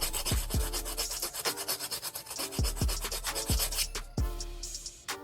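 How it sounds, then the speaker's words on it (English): Old sandpaper rubs back and forth on a pocket bike part, a close rasping scrape in quick repeated strokes with a few louder scratchy sweeps, no talking. "Some old sandpaper, man."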